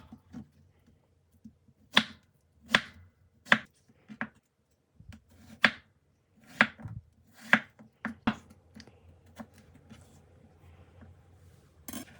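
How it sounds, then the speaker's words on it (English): A knife dices cucumber on a chopping board for a chicken Caesar salad: crisp, close chops in an uneven rhythm with brief pauses, loud against an otherwise quiet kitchen. "Dice 65 grams of cucumber."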